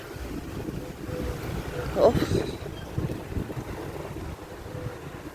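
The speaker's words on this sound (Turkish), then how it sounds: "Şu anda da yine acayip bir rüzgar var." Strong wind buffets the microphone with a steady roar and gusts, while a woman briefly sighs over it.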